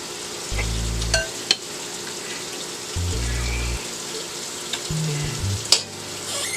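Food stir-frying in a hot pan with hoisin sauce and chili flakes, a steady close sizzle broken by a few sharp utensil scrapes and clinks as it is tossed, no voices.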